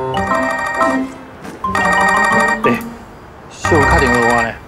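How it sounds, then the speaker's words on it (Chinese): A telephone ringtone plays in three separate bursts of a bright, repeating electronic melody, close and fairly loud, with short pauses between the rings. "小卡电话我呢"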